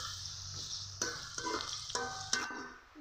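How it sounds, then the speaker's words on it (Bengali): Sliced onions fry in hot oil for biryani, a steady close sizzle broken by several sharp scraping clacks as a spatula stirs them in the pan. "এখন আমি বিরিয়ানির জন্য বেরেস্তা ভেজে নিব। দিয়ে দিব পেঁয়াজ, নেড়ে নেড়ে আমি পেঁয়াজগুলোকে বেরেস্তা ভেজে নিব।"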